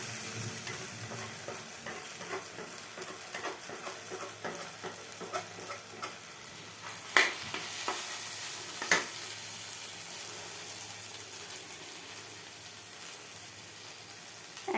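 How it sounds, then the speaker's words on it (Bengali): Food fries in a pan with a soft, continuous sizzle, broken by occasional sharp scrapes and clicks of stirring, heard close and fairly quietly. "এটাকে ভালো করে ভাজা করতে হবে।"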